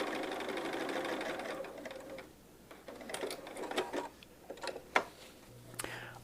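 Sewing machine stitching lines on paper-pieced curved quilt units at a 2.0 stitch length, a close, quick mechanical running hum, then stopping, followed by scattered light clicks and handling taps.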